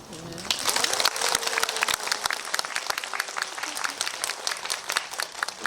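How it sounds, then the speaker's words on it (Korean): An audience at a fan talk event applauds with lively, dense clapping that swells and continues throughout, with faint crowd murmur mixed in. "답변하실 때마다 이렇게 또 박수를 쳐주시는 게 약간 콘서트장이고 굉장히 부담스러워요"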